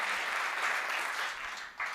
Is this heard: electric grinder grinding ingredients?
no